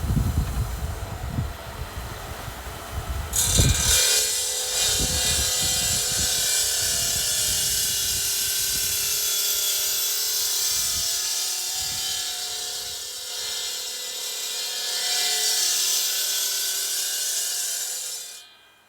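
A power saw cuts slate tile for a patio, a loud, steady high-pitched whine running for about fourteen seconds after a brief start, then stopping abruptly at the end.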